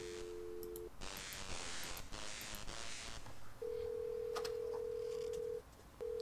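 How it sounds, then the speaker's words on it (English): Telephone dialing tones from a phone in the video game Thimbleweed Park: a steady tone, then a quick run of keypad beeps, then a long, sustained tone, all clear and close with no talking. "It's a phone."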